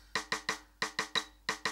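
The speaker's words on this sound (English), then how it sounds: "I play to a click track" Crisp, close clicks in uneven groups of three with short gaps between, one higher accented click standing out, forming a layered metronome pattern.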